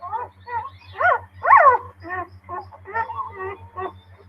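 Small Yorkshire Terrier barking and yipping in a rapid series of short, high, sharp barks, close and fairly loud, over a low steady background hum.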